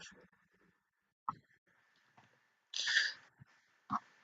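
A polar bear growls in the video game Minecraft: a short, rough growl stands out from sparse, quiet game noises and faint soft sounds.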